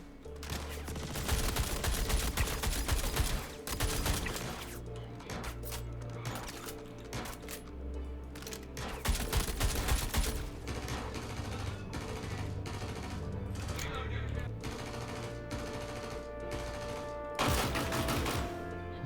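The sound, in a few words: light machine gun fire in a video game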